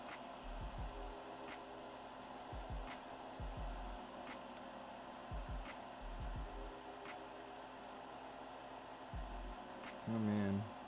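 A fume extractor runs steadily during a budget mechanical keyboard build, a constant airy whir under background music with repeated soft clicks and taps from the work.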